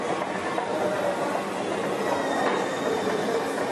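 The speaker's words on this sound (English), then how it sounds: "We're at the train station." Steady rumbling and rattling of a train at a station in Thailand, with faint wheel squeal over a continuous wash of rail noise, fairly close and even in loudness throughout.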